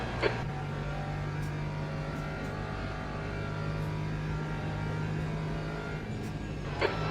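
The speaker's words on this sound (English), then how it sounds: "There's a faster class car approaching." A steady, droning race car engine hums throughout inside the Le Mans Ultimate racing game, with a faster class car approaching from behind and only brief clicks breaking the constant tone.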